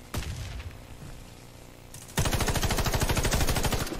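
Rifle gunfire in the PS4 shooter Warface: one sharp shot rings out, followed after a pause by a sustained rapid burst of closely spaced automatic shots, loud and continuous, with no talking.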